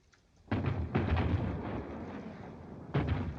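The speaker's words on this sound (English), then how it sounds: "What's that shooting?" Booming gunfire from army manoeuvres in a 1941 wartime comedy film rolls in as heavy, rumbling bursts, with a first blast, a sustained roar, and another sharp burst near the end, muffled and old-sounding.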